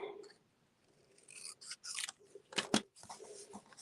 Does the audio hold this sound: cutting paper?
yes